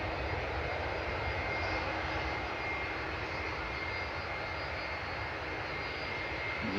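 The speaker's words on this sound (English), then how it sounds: "You can hear the RBE 211 engines whistling in the background." An airliner's Rolls-Royce RB211 jet engines at Manchester Airport give a steady, broadband roar with a faint high whine on top, distant and continuous throughout with no talk.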